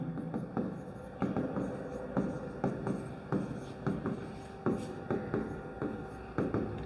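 Pen writing on paper close up, with a steady series of short scratchy strokes and taps in an uneven rhythm, quiet and without talking.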